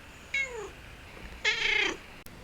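A domestic cat meows twice, a short cry followed by a longer, louder one, close by in a quiet room.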